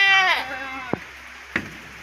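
Sheep bleat loudly and close by in a livestock pen: one long wavering cry followed by two short sharp calls.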